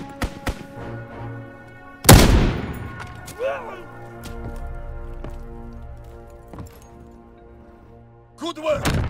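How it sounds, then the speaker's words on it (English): Gunfire and explosions from a strafing run in the World War II shooter Call of Duty: WWII, with one heavy blast, scattered shots and impacts, and game voices calling out. "Enemy strafing run inbound!"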